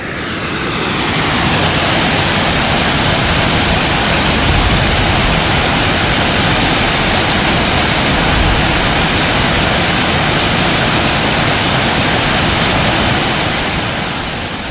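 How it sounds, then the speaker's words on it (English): A waterfall on the Big Branch Trail in New River Gorge roars as a steady, loud, broadband rush of falling water, close and unbroken throughout with no voices. "we can see the waterfall at the head of the river."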